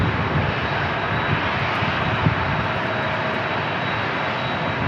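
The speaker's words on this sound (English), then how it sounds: "we got another Delta 737 moving" A Delta Boeing 737 jet taxis at San Diego International Airport, its engines giving a steady, loud broadband roar with a faint high whine, unbroken throughout.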